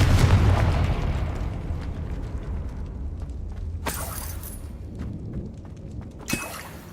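Confringo blasting spell explosion in Hogwarts Legacy, a loud booming blast up front that rumbles and fades over several seconds, with a couple of sharp crackling bursts afterward.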